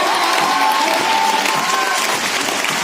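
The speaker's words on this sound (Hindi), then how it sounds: "आपको पता है उनके लिए तालियां कैसी होनी चाहिए" Loud, sustained applause and crowd noise from an audience at a business training event in Delhi, with clapping steady throughout and a tonal hum running underneath.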